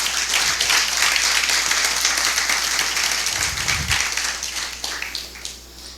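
Church congregation applauding for the Lord after a sermon, loud dense clapping that builds and then gradually thins out over several seconds, with a low hum underneath.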